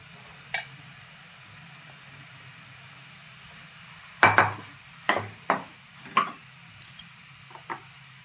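Soaked, salted soya chunks dropped into hot oil for a spicy kharda dish, with a low steady sizzle broken by a string of sharp stirring and scraping knocks in the pan, close and clear.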